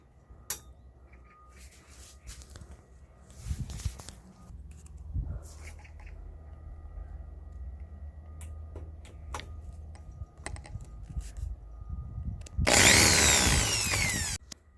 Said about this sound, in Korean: 이걸 이제 지킬 피스를 박도록 할게요